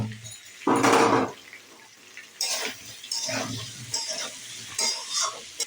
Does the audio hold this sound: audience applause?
no